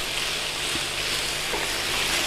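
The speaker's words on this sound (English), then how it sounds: "Give that a stir in." Beef mince and onion being stirred in a hot pan, a close continuous sizzle with a couple of faint scrapes of the spoon, short and without voices.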